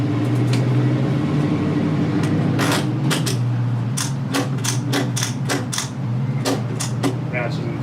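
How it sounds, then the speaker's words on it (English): Ratchet strap being tightened on a Thule Easyfold XT bike rack, a run of sharp clicking ratchet strokes in quick irregular bursts over a steady low hum, with a voice talking at times. "Ratchet that in place."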